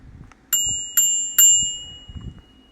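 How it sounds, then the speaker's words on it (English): A bicycle bell rings three times in quick succession, each bright ding ringing out and decaying, close and clear over faint low background rumble. "Now, I had a bell on my bike."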